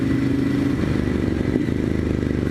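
A Ducati Monster 1100 Evo motorcycle being ridden, its steady engine drone running continuously up close with a brief rise in revs partway through and faint clattering mechanical noise throughout.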